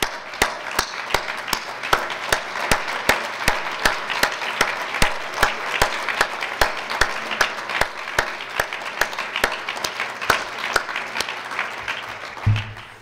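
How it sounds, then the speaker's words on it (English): An audience at a hypertension health event applauds, with sustained crowd clapping and sharp, distinct claps cutting through, tapering off at the end. "stand up and actually give yourself all a round of applause"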